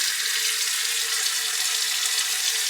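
Water running steadily from a tap through an RV fresh water system after bleach cleaning, a continuous close hiss of flow with no break and no talking.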